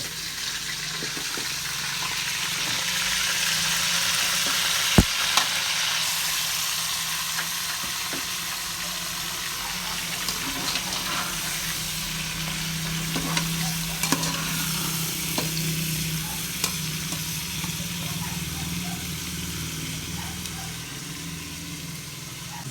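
Meat fries in hot oil with a loud, steady sizzle and crackle that runs the whole time. Sparse clicks and knocks of a utensil stir the pan, and no voice is heard.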